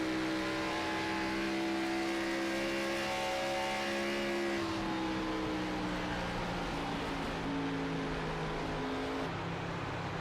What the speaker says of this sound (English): let's listen to their engine here.